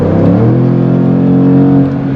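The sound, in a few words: Jaguar 550 HP car engine accelerating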